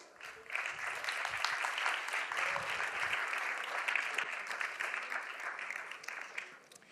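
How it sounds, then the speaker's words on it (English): Sustained, full applause from a conference audience welcoming a chef on stage, a dense even wash of clapping that starts briskly, holds steady for several seconds and then tapers off. "a big round of applause for Chef Angel Leon"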